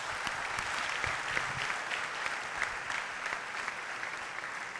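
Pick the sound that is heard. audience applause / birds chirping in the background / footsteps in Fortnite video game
audience applause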